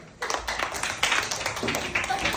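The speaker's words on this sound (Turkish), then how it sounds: "Finale kaldı Yasemin. Alkışlayalım." An audience at a quiz show claps in a short burst of brisk, close applause lasting about two seconds, with voices mixed in.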